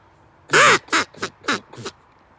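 A vintage PS Olt duck call from the early 20th century, blown in five short quacks, the first long and loud and the rest shorter and fading, close up with no talk.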